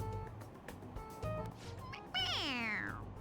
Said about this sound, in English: Meow like you're told to.